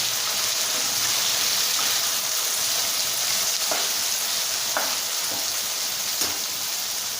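Drumstick and corn pieces frying in a pan after a pinch of turmeric, giving a steady, close, loud sizzle that runs throughout with a few faint stirring clicks.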